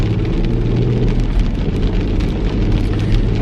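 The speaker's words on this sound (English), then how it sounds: "Like the windshield wipers and the rain and cars driving through puddles." Heavy rain pours steadily around a car as windshield wipers sweep and passing cars splash through puddles, a loud, close, continuous wash of water and road noise with no talk.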